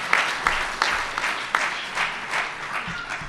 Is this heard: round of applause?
yes